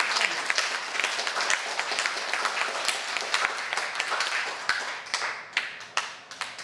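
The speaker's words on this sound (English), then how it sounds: "why don't we give him a round of applause?" An audience claps for a school superintendent at a celebration of a high school's 150th anniversary, a full, even round of applause that holds steady before tapering off with a few last claps.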